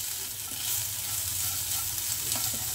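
Bitter gourd rings fry in a pan and are stirred, with a short steady sizzle and soft stirring scrapes, close and moderately loud; no talking.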